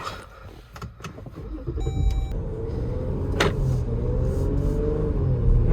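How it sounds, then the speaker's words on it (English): A 2018 Jeep Grand Cherokee fitted with a Trackhawk Brembo big brake kit drives around the block, its engine and road rumble building steadily from inside the cabin, with a brief whine and a few faint clicks and no talk. "Just gonna drive it around the block real quick."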